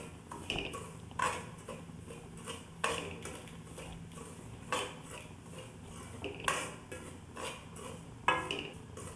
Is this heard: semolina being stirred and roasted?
yes